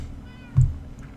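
A single short cat meow in the Minecraft video game, rising briefly over quiet background ambience.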